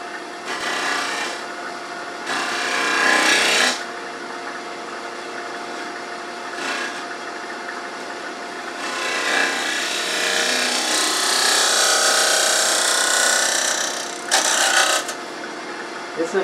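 A negative rake scraper works across the bottom of a turned wooden bowl on a lathe, giving a steady close rasping scrape in long passes broken by short pauses and bursts.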